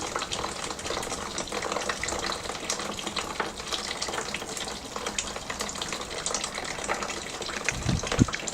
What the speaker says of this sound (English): I'm adjusting the flow of the water through the copper coil to get the optimum heat exchange.